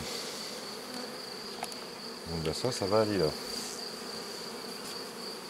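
Honeybees buzz steadily at a hive while frames are moved from a Miniplus box into a Maxiplus, a thin constant drone under a man's brief speech.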